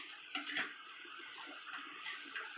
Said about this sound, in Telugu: ఇప్పుడు దాన్ని హై ఫ్లేమ్లో పెట్టుకొని బాగా ఫ్రై చేసుకుంటుంది ఫ్రెండ్స్